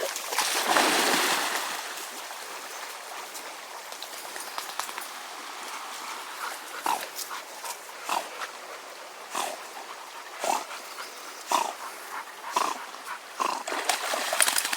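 A dog playing fetch outdoors in summer in the Creuse, France: a brief burst of activity at the start, then scattered short scuffling and panting-like bursts at close range against a quiet background.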